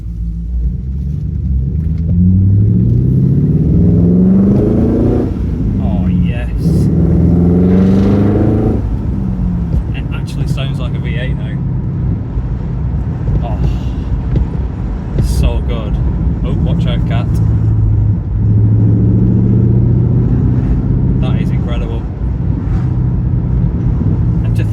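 A BMW 545i V8 engine rumbles deep and steady while driving, rising and falling in pitch as it revs through gears, with someone talking over it.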